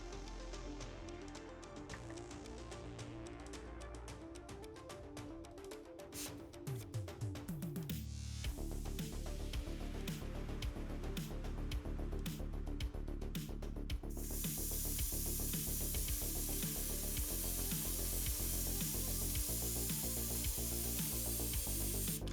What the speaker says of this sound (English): Now I gotta clean the airbrush